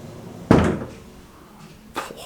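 A house door swings open on its own with a loud close thump, followed by a quiet pause and then a second, softer knock.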